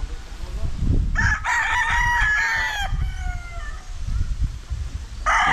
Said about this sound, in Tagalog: ipapakita ko sa inyo yung mga manok na nandito